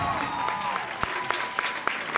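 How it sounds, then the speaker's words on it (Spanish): A live audience claps for a guitarist on a music entertainment show, a dense ripple of applause under which a few sharper individual claps stand out at a roughly regular pace. "Un aplauso para Fer en la guitarra."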